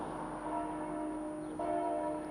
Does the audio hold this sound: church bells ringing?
yes